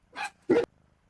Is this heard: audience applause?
no